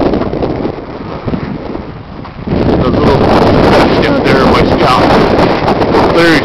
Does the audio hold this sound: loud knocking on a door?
no